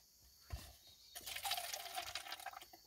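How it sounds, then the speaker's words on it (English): Water from a tank pump runs into a cup, a soft steady splashing trickle that starts after a faint knock and continues alone at close range. "just like that you have running water"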